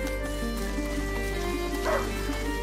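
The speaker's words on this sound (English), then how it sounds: "a hunting dog is not supposed to lose its hunter." Hunting dog Leon yips and barks in A Plague Tale: Innocence, a few short bursts over a steady ambient game backdrop with some faint voice activity, moderately close.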